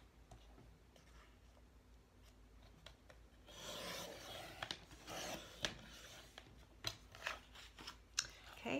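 Scissors cutting paper into 2-inch and 1.5-inch strips, close and quiet, with a run of crisp snips and rasping slices building after a faint start, no talking.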